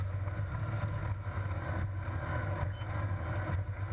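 Offshore powerboat racing past at the UIM Sicily Ocean Grand Prix, a steady loud engine roar with strong wind buffeting across the microphone throughout.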